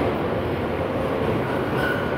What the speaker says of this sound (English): This is the J train.